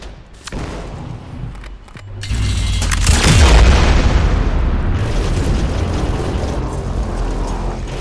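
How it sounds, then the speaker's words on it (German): A grenade blast in the Orange Cast demo game: after a brief mechanical click, a heavy booming explosion erupts and settles into a long rumbling roar with debris hiss, loud and close, with no speech over it. "So, jetzt nehmen wir nochmal die Granate."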